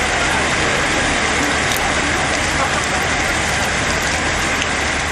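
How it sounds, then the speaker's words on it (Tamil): Steady, heavy rain pours over the Chennai suburbs of Tambaram, Pallavaram and Chromepet, a loud, dense, unbroken hiss of falling water. "சென்னை புறநகர் பகுதிகளிலும் திருவள்ளூர் மாவட்டத்திலும் நேற்று பரவலாக மழை பெய்தது."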